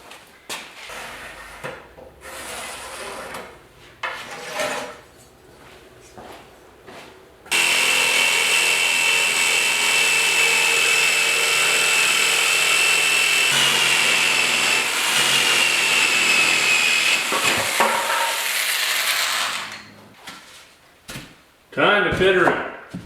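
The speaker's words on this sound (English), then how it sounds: "let's cut a piece of plywood for this." Power saw cutting a piece of plywood in a workshop, a loud, steady whine lasting about twelve seconds, with bumps and handling noises before and after, and talk at the start.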